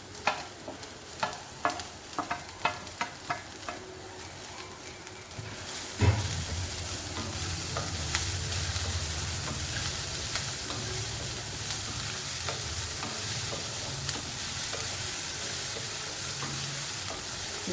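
Mixed vegetables with green capsicum hitting a hot pan, a few sharp clatters of stirring at first, then a loud, steady sizzle and hiss of frying that continues close up without any talking.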